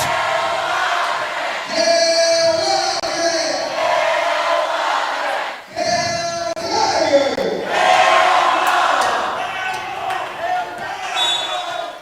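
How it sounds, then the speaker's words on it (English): A loud, lively crowd echoing in a large indoor gym at a college volleyball match, with shouts, cheers and ball bounces, and voices talking over the noise. "Lively crowd inside Moore Gymnasium today"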